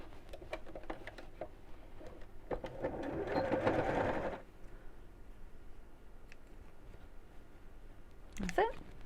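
A sewing machine stitches straight across a fabric storage box in a short, steady burst of whirring, set among quiet handling sounds, with a brief rustle near the end.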